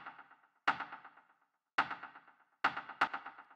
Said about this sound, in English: So then the next sound we have here is this clap